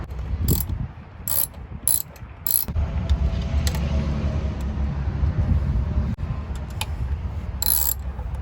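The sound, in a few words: ratchet snugging valve cover bolts on Mazda MX-5 Miata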